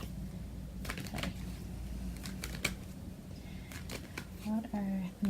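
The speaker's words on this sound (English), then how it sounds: "So I'm just going to shuffle the cards." Tarot cards riffle and flick in quick bursts of crisp shuffling, close and fairly quiet, with a brief voice near the end.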